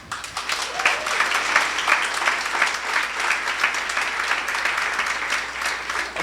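A church congregation applauds continuously for several seconds, a dense wash of many hands clapping at steady loudness.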